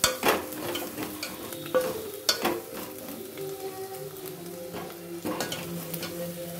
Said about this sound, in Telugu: ఈ నూనెలో గోలితే టేస్ట్ మంచిగా వస్తుంది అన్నట్టు.